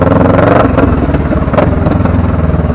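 Motorcycle ridden through rain in city traffic, its engine droning loud and steady with rhythmic pulsing and clattering, close to the microphone for the whole stretch with no talking.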